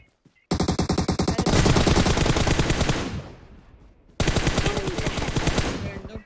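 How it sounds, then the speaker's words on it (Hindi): Loud sustained automatic fire in the mobile game PUBG Mobile, two long bursts of rapid rhythmic shots split by a brief lull, with no voices. "रैंडम फायर कर रहा था"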